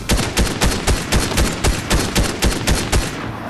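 Steady bursts of gunfire in the battle royale video game Fortnite, about a dozen loud, evenly spaced shots in quick rhythm, close and alone with no talk over them.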